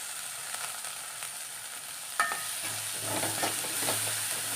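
Onions, garlic and curry leaves fry in a pan, a steady bright sizzle with a stirring clatter partway through and a fuller crackle after it, no voices.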